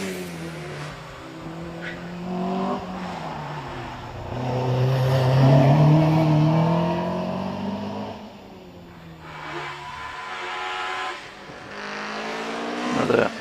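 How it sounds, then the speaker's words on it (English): A Westfield SE 2000 race car climbs the Prescott hillclimb course, its engine revving and shifting through gears with rising and falling pitch, loud and fairly near, while a commentator talks over it. "Phil Fisher is car 90 in the Westfield SE 2000."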